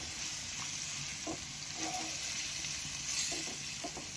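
Pork stir-fries in a pan with a constant loud sizzle, broken by a few soft scrapes and clacks from stirring, and no voices over it.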